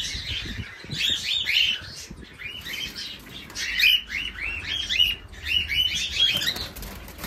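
Pet cockatiels chirping indoors, a flock giving rapid bursts of bright, repeated tweets at close range, mixed with light rustling and wing flutters.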